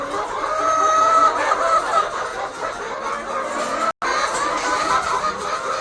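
A noisy flock of chickens clucks continuously at close range, the overlapping calls dense and steady throughout, with a momentary break midway.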